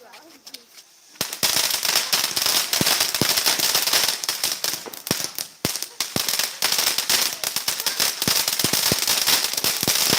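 Firecrackers bursting at a New Year's Eve celebration in Sicily, a dense rapid string of sharp cracks and pops after a quiet start, loud and continuous, with voices talking beneath.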